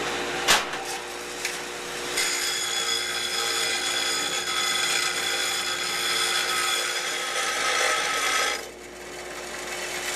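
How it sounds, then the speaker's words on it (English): A power tool grinds a bevel around the bottom edges of metal newel post base plates, running loud and close in one steady stretch of about six seconds before stopping. "we're just going to put a real nice bevel around one side, all the way around on the bottoms of these"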